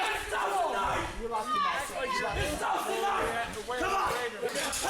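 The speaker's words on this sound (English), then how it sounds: "Yelling back and forth." Pro wrestlers yelling back and forth at a Rocky Mountain Pro wrestling event, rough shouted exchanges overlapping with a noisy, rowdy crowd, loud and continuous with brief peaks.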